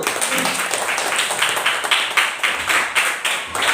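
Students clapping for a group at a school, moderately close and uneven, with loose overlapping claps throughout and no voices.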